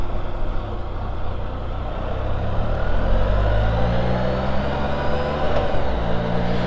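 Can-Am Spyder three-wheeler with a 6-speed manual gearbox pulling away, a loud close engine note rising in pitch through several upshifts with brief dips between gears.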